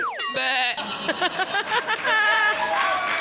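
A male goat bleats in a quick series of short, wavering cries after a sharp squeaky opening. The bleats are close and loud in a comedy sketch set at Eid, with scattered chuckling sounds mixed in.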